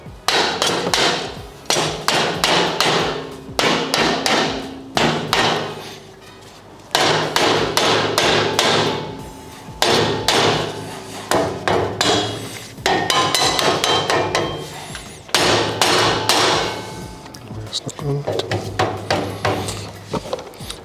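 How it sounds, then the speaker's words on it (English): A rubber mallet strikes an aluminium tube on a wheel carrier, fitting steps into place: bursts of sharp, close knocks in quick rhythmic runs separated by short pauses, loud and clear with no talking. "We're using a rubber mallet."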